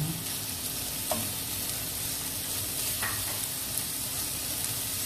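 Minced meat sizzles steadily in a frying pan while being stirred, a continuous close hiss with a few soft scrapes of the utensil and no talk.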